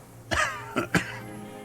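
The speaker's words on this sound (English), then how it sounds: "He coughs once more, then puts his hand on his belly." A man coughs three times in quick succession in the video game Disco Elysium, raspy and close, the last cough short and sharp, with quiet ambience around it.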